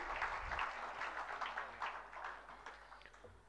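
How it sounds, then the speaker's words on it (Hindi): Audience applause at a Bollywood-related event in India, a steady wash of many hands clapping that carries on through the whole stretch with no voices heard. "हमें ताली बजाकर अभिनंदन करना चाहिए"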